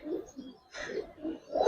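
Giribaz pigeons give soft, low cooing calls close by, several short rhythmic throaty coos in a row with a brief gap between them.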